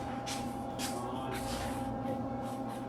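An air compressor blows repeated short hissing bursts of air, about five spaced puffs over a steady low mechanical hum, fairly quiet and with no talking.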